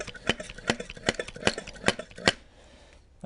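A Triumph Sprint ST 955i motorcycle fork is pumped by hand to drain its oil, giving six sharp metallic clacks in a steady rhythm, close and clear, then a quiet tail.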